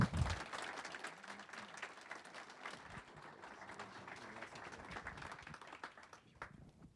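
An audience in a lecture hall applauds to welcome a speaker onto the stage at a conference on public engagement: dense, steady clapping for about seven seconds, heard from the room at a moderate distance.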